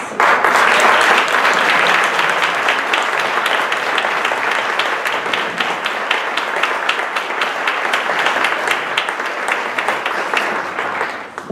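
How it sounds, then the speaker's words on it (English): An audience at a one-year anniversary event applauds CPD student associates as they stand, loud, dense clapping that starts strongly and carries on steadily before easing at the close. "could all of you who have been CPD student associates please stand up so that we can give you a thanks and a round of applause"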